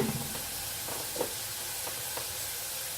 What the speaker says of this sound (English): Our sauce is still simmering away,